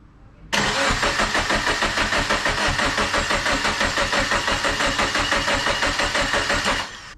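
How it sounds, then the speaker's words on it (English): A twin-turbo Subaru engine cranks over on its first start-up attempt, a loud, steady rapid rhythmic churning that runs about six seconds and then stops, with no voices. "Here we go, first start up."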